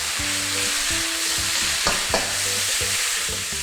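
Bacon stir-fried with garlic, pepper, oyster sauce and fish sauce in a pan, a steady loud sizzle with scraping spatula strokes and a couple of sharper clanks, no talking.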